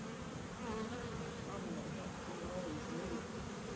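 Honeybees buzzing at an open hive during an inspection, a soft, steady, dense drone of many bees throughout, fairly faint and without a break.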